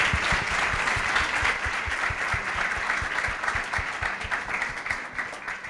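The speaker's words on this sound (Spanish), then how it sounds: "Un fuerte aplauso a la última emprendedora." A live audience at a circular-economy pitch event in a museum gives loud, sustained applause, a dense wash of clapping that fills the whole clip without a break.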